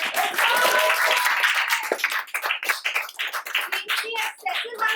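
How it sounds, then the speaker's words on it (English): Audience applause for a performer at a college theatre production, a dense burst of clapping that breaks into looser, uneven individual claps, with voices and calls mixed in. "please give a huge round of applause for Nara"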